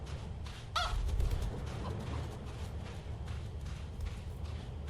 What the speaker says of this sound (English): So I can chase this chicken back.